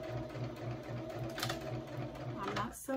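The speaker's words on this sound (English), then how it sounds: "I'm going to back stitch a couple of times just so it won't come apart" A sewing machine back stitches the seam of a simple bag, its rapid mechanical stitching rhythm running steadily and close by, with a brief pause near the end.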